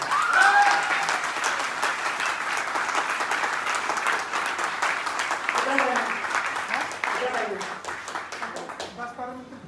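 An audience claps together at a live talk event, a thick, sustained round of applause lasting several seconds that tapers at the end, with a few voices calling out over it.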